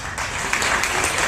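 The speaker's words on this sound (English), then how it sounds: "Professor Altaf Ahmed, the director of Miyasi, deserves a special cheer from all of us." Audience applause for an institute director during a lecture event: a short burst of steady, dense clapping from a room full of people, close and fairly loud, with no talking.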